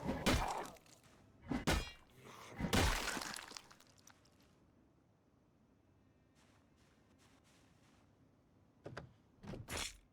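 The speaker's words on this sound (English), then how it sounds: "Standing on glass isn't great because it makes noise" Crunching, shattering glass steps in Project Zomboid, a few loud bursts at the start, a quiet stretch, then more crackling steps near the end.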